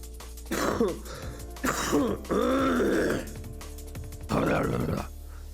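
Several harsh throat-clearing and coughing bursts, close and loud, separated by short pauses.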